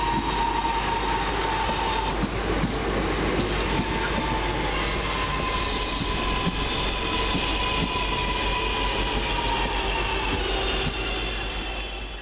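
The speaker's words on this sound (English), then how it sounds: "Next up, the 12:04 London Midland Cross City service from Lichfield City to Redditch" A London Midland Class 323 Cross City electric train at Chester Road station, loud and close throughout with rumbling wheels, rail clatter and faint squeal, fading slightly at the end.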